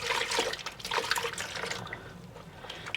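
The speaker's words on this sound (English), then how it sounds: "Just going to add a bit of water and water down this PVA glue a little bit." Water poured into a mix of PVA glue and flour for papier-mâché, a close, splashy liquid pour that eases off toward the end.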